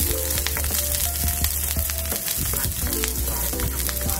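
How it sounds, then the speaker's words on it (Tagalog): Half a white onion sautés in a hot pan, giving a steady close sizzle and crackle with occasional stirring scrapes throughout. "Guys, magigisa na tayo gamit yung ating kalahating white onion. Ating ipapa-golden brown lang yan guys."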